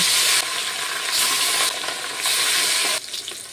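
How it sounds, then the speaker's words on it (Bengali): Pieces of rohu fish frying in oil in a kadai, with a loud, close, continuous sizzle that swells and drops in level a few times. "বাকি মাছগুলোকে একইভাবে ভেজে নেব।"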